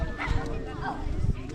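A person imitates a dog barking, giving a few short yip-like bow-wow sounds mixed with speech-like vocalizing, close and moderately loud.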